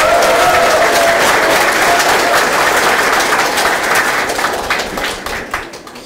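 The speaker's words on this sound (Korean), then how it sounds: "여러분 제 말에 동의하시면 박수 한번 보내주십시오." A crowd at the opening of an election campaign office breaks into loud, sustained applause with dense clapping that slowly thins out toward the end.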